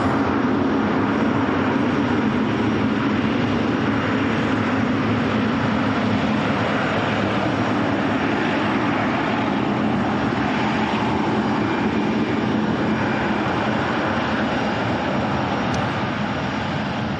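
An airliner taking off at Manchester Airport, a loud sustained jet engine roar with broad rumble that holds steady and heavy for the whole stretch.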